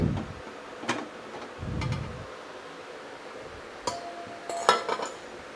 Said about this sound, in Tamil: இப்போ நம்ம குக்கர் ஓப்பன் பண்ணி பார்க்கலாம்.